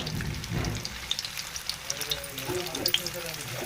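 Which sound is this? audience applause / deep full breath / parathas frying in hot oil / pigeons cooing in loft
parathas frying in hot oil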